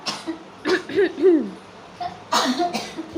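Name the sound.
cough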